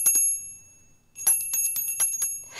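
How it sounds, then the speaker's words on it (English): A small bell rings with bright, high tones, a couple of strikes, a short pause, then several quick rings in succession. "Do you want to ring us out? I love the sound of that bell."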